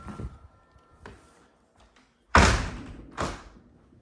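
A sliding screen door in a home rolls and bumps along its track, with scattered light taps giving way to two loud, close rumbling slides and thuds, and no talk.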